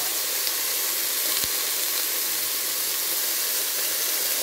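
Balsamic vinegar sizzling on asparagus in a hot pan, a steady loud hiss and crackle that stays even throughout, with one faint tick near the middle.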